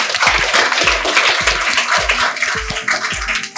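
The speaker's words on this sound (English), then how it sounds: "So clap for Daksh, guys." An audience at a kids' batch felicitation ceremony clapping for an honoree, a dense, loud wash of hand claps with a few heavier thumps, steady throughout with no voices rising above it.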